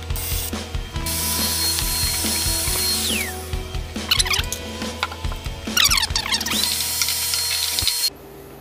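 A drill fitted with a hole saw bit bores through wood to remove a core, giving a loud, close mechanical grinding with ratcheting, stuttering bursts and pauses, then cutting off abruptly near the end.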